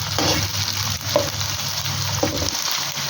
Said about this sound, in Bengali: পেঁয়াজগুলি হালকা গোলাপি ভাজা হয়ে গেলে